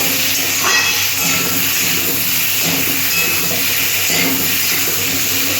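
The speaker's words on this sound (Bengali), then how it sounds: "হালকা লাল করে আমি ফ্রাই করে নেব" Potatoes frying in hot oil until lightly browned give a steady, continuous sizzling hiss that stays at an even level throughout, with no voices.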